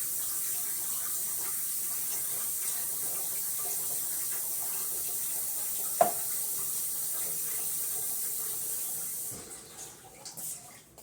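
Liquid soap base is poured into a mold in a steady, close trickling stream for about nine seconds, with one sharp knock midway and softer handling sounds as the pour stops.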